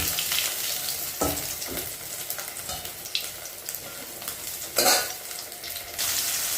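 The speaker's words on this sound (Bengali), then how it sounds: "এইভাবে লাল লাল করে মাছটা ভেজে নেব।" Pieces of fish fry in hot oil in a pan at home, a steady close sizzle with occasional louder spits and stirring clatters, no talking.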